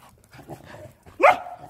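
Dogs outdoors on New Year's Eve react to firecrackers with a single sharp, fairly loud bark or yelp standing out from faint background noise on a cold night.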